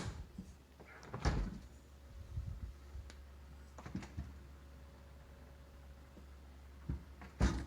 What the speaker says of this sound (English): You can close these doors